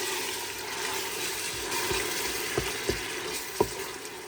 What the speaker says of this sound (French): Une fois que mon huile d'olive est bien chaude, je vais y déposer l'oignon haché.